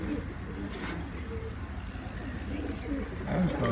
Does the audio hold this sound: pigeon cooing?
yes